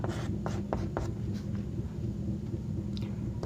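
Chalk or marker scratching on a board while a teacher works a maths problem in a class lesson, several short stroke bursts early on, then quieter strokes against a steady low room hum.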